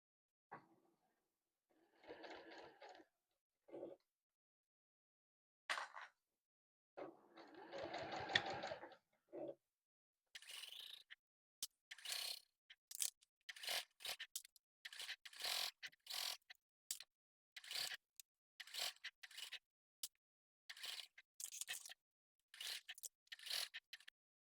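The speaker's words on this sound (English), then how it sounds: "I'm going to top stitch as close to the edge as I can" A sewing machine top stitches along the edge of a fabric Advent calendar panel in short, quiet bursts of rapid mechanical whirring separated by pauses, with fabric rustling and handling in the gaps.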